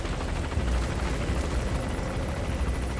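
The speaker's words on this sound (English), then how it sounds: "the helicopter's been flying around" A helicopter in Metal Gear Solid V flies nearby, its dense rotor roar and turbine noise filling the scene steadily and loudly without pause.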